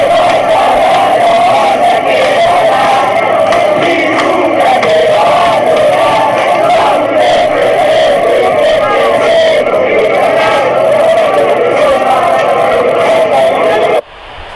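A dense crowd cheers and chants loudly and without a break while a soccer game plays, roaring voices filling the room for about fourteen seconds before cutting off abruptly.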